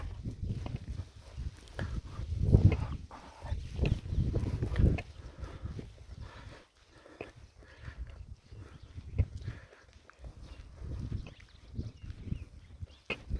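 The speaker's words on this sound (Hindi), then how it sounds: "बीच बीच में मेरी लाठी की आवाज़ सुनाई देती होगी आपको" A wooden walking stick taps on a hilly forest path during a Narmada Parikrama pilgrimage walk in Madhya Pradesh, giving irregular close knocks with footsteps and faint birdsong in quiet woods.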